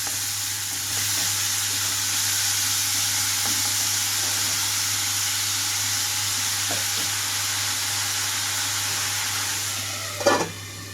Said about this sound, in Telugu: ఉల్లిపాయలన్నీ ఒకసారి తాలింపులో కలిపేసేసి మూత పెట్టేసి ఉంచుతున్నాను 5 నిమిషాల పాటు